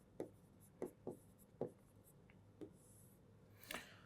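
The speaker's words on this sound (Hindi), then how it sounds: "मैं यहां पर लिख दे रहा हूं।" Writing on a board during a geography lesson, heard as a series of faint, separate taps and scratches spaced unevenly, about six strokes with quiet gaps between them.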